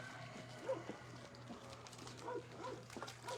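A puppy beside a backyard swimming pool gives faint, scattered whimpers and short yips, quiet and somewhat distant, over low background hum.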